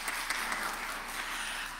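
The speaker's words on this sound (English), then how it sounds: "you want to clap?" A church congregation claps during a Sunday service, a brief spell of moderately faint, steady applause from the room with no talking over it.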